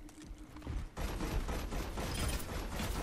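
Rapid bursts of gunfire from a deployed turret in Overwatch, a quiet lead-in followed by sustained rattling automatic fire that stays dense and steady to the end, without any voices.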